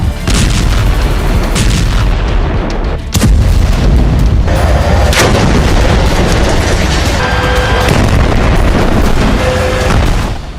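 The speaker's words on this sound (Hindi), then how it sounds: "आईडीएफ वेस्ट बैंक के तमाम इलाकों पर गोला बारूद बरसा रही है" Heavy shelling and gunfire in the West Bank, loud booming blasts and sharp cracks in quick succession, buffeted by wind noise, with voices faintly in the background.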